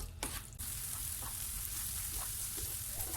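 Tomatoes sautéing in a hot masala for a Kerala-style prawn roast give a steady, close sizzle with a few sharp stirring clicks near the start, continuous and fairly quiet throughout with no voices.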